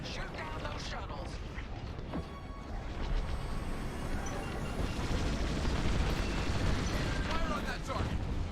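Starfighter laser fire and explosions rumble through a Star Wars Squadrons space battle, a continuous dense barrage of booms and bursts with faint radio chatter mixed in.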